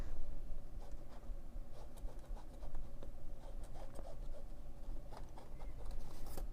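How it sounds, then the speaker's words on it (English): Pen scratching across fusible appliqué paper while a shape is traced, a steady soft scratchy rubbing with small strokes running throughout, close and fairly quiet. "I'm going to draw my piece on here once more"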